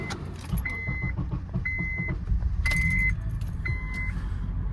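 A car engine cranks with difficulty in the cold after a blizzard, giving several separate whining starter bursts over a close, continuous low rumble.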